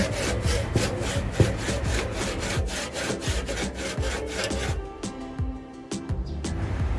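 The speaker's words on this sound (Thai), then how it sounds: "เสานี้เป็นเสาเก่าแก่นะคะ หนัก และเลื่อย ยากมากนะคะ อันนี้เราใช้มือ เลื่อยมือนะคะ" A hand saw rasps steadily through an old, heavy wooden post in a fast back-and-forth rhythm, close and loud, then slows into a few rougher strokes.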